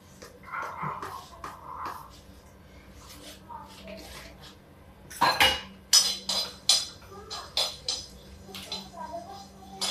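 Whole spices with asafoetida being lightly roasted in a pan, with a person talking over it, then a burst of sharp metallic clinks and scrapes of a spoon against the pan, close and rhythmic.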